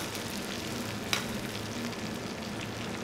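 Lamb chops sizzle steadily in browned nut butter with rosemary and garlic, a dense crackling fry heard up close with one sharp clink of a utensil.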